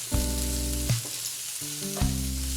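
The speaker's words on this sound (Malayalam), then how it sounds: "ഇനി ഇത് നന്നായിട്ടൊന്ന് വഴണ്ടു തന്നെ ബ്രൗൺ കളറാവണം" Jackfruit seeds with salt sauté in a pan, a steady soft sizzle with stirring beneath louder background music.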